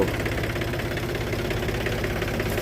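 A steady, throbbing municipal garbage tractor engine rumbles continuously at close range, a heavy diesel chug with constant vibration and no pauses.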